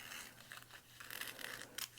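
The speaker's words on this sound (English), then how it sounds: "I should be able to just slide it along with my scissors" Quiet, continuous hiss of scissors gliding through thin ripstop nylon fabric while trimming a bag, a soft sliding rasp with faint crinkles, close up and without talk.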